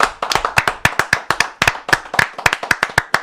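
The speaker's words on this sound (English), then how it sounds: "Clap it up for that episode 1." Steady rhythmic hand clapping marks the first episode of a live podcast, about a dozen sharp, loud claps close by in an even beat with no talking.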